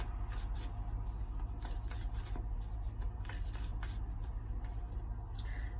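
Oracle cards are shuffled by hand, a faint repeated riffling and flicking of card stock over a steady low background hum, with no talking.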